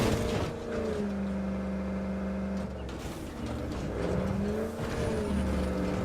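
A car drives in State of Decay 2 with a rising and falling engine whine, shifting pitch through two surges and tire noise between them.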